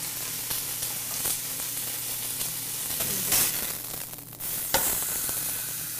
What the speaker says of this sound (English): Next, I'm going to brown the meat.